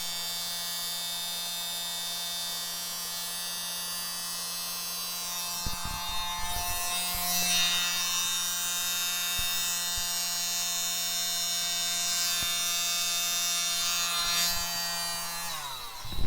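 A small battery mini leaf blower whirs steadily at close range while blowing acrylic paint across a canvas for a Dutch pour, a constant high motor whine with a low hum that cuts off near the end.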